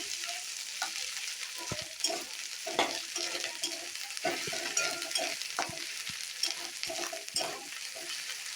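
Ginger-garlic paste sizzles and fries in a pan for a fish curry, with a steady bright hiss and repeated scraping knocks of a spoon stirring it, close and continuous throughout.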